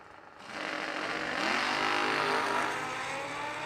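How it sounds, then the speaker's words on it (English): At a drag strip, a motorcycle and a 1963 Corvette Roadster launch off the line, with a sustained loud engine roar that swells and holds for several seconds, with no talk. "Luke David comes up next, left-hand side. 580 the dial-in on the motorcycle."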